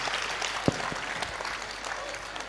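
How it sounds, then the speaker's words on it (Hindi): A brief burst of dense audience applause at a Hindu religious gathering, steady and fairly loud throughout its few seconds. "जोरदार ताली बजा करके आप सब धन्यवाद दो।"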